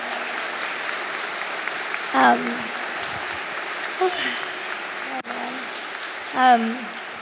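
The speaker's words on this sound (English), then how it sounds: "Can we get one more round of applause for Juma, please?" A conference audience applauds a speaker at a talk on rainforests and climate, a steady wash of clapping with brief bursts of talk rising over it.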